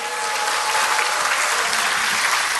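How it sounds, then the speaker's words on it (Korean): A large audience at a political party's 70th anniversary ceremony applauds the party's standing advisors, producing steady, dense clapping throughout. "우리 상임 고문님들께 뜨거운 박수를 보내주시기 바랍니다"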